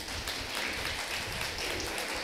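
A church congregation claps loudly and steadily during a service, a continuous dense wash of hands with no pauses.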